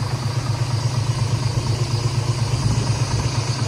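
A Scania truck's diesel engine runs steadily with a low, even rumble and constant vibration, close and loud, with no voices.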